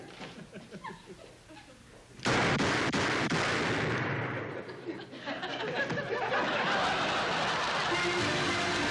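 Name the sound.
gunfire on cue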